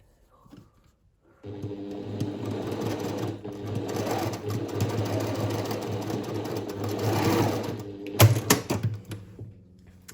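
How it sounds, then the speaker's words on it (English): Sewing machine sewing across a seam line with a 3/8 inch seam allowance, a steady close motor whir lasting several seconds, then a few clunks and knocks as it stops, with no speech. "align the seam lines as best I can, and sew across with a 3/8 inch or 1 centimeter seam allowance"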